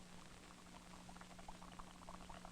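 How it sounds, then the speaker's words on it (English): Water simmering in a paper cup held over a candle flame, a soft steady bubbling patter with faint popping that grows busier toward the end, close and quiet over a low hum. "the water soon starts to boil"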